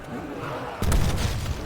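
A sudden explosion bursts in Call of Duty Zombies, a sharp, loud boom after a quiet stretch that rumbles on for about a second.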